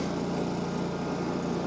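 A SCAG walk-behind lawn mower engine runs steadily close by with a continuous buzzing drone and a low rhythmic thrum, heard alone with no talking.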